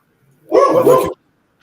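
A single dog bark, close and fairly loud, lasting about half a second and heard alone with no talk over it.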